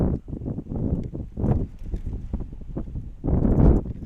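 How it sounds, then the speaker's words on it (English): Gusty wind at an outdoor high school softball game buffets the microphone, giving uneven low rumbling bursts that swell and fade, with the loudest gust near the end. "And it is windy."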